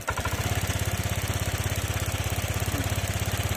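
A Honda Vario 125/150 scooter engine, which has a throttle body fault, runs with a steady, fast putter after being started. The idle is even and fairly close, with no talk over it.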